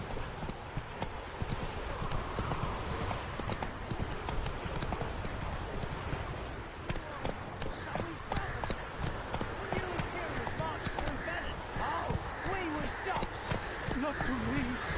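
Horse hooves galloping in The Witcher 3, a fast continuous clip-clop rhythm throughout, with voices and game dialogue talking over it.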